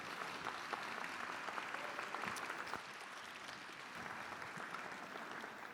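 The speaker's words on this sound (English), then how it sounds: "So why don't we give our table hosts a round of applause." A benefit luncheon audience applauds its table hosts, a dense, steady wash of clapping from a roomful of people, sustained at even loudness for several seconds with no talking.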